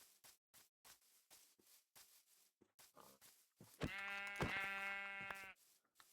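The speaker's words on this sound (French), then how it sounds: "Ah, un mouton blanc, let's go!" A white sheep in the Minecraft video game gives a loud, drawn-out bleat near the middle, preceded by a series of soft, evenly spaced game clicks and steps.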